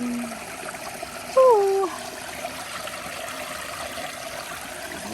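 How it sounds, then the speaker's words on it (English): Cold water flows in a rocky trail-side stream as a steady, close hiss beneath a brief exclaimed voice. "There's our water flowing."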